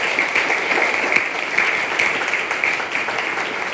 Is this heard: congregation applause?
yes